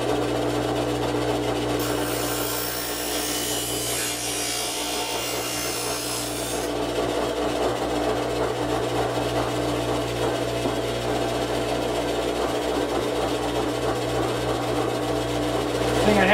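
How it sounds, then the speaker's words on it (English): A plane blade is ground at a bevel while sliding along a sharpening jig, giving a steady close rasping grind, with a brighter scraping burst near the start, running continuously without talk. "That way I can just slide the blade along and it automatically squares it up and grinds it at the bevel that I want it to."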